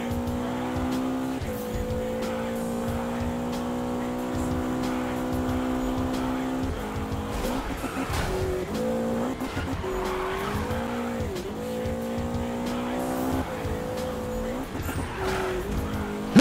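A McLaren race car in the Need for Speed video game roars steadily throughout, its engine pitch rising and falling through gear changes while tires squeal and skid in repeated bursts, loud and continuous with no talk.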